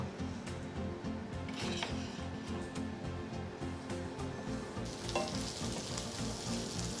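Cauliflower florets sizzle and fry in a pan as they brown, a steady close crackle with occasional stirring scrapes and a brighter hiss toward the end, without speech.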